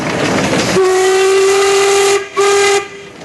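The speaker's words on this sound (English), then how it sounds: "Let's hear the whistle on the 45." Loud, piercing steam whistle on a J.I. Case 45 steam engine, a strong tonal blast that holds for well over a second, breaks briefly, then sounds again before fading, with a faint hiss around it.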